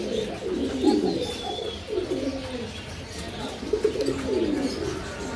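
A pair of German Modena pigeons coo in low, throaty, rolling phrases that repeat a few times, close by, with faint chirps behind them.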